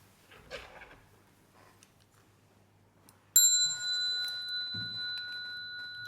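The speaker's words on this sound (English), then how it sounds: "The bell sound" A bell rings during a Buddhist lecture: one sudden, clear strike whose bright, sustained tone lingers and slowly fades, after a quiet stretch of faint room noise.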